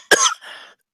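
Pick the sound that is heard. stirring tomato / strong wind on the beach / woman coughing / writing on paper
woman coughing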